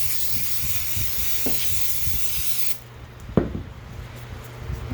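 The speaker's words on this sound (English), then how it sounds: "So I've been spraying it on and then brushing it in." Thin foamy sealer sprayed onto a DIY concrete countertop, a continuous close hiss that stops abruptly partway through. A few soft knocks and rubbing sounds follow in the quieter remainder.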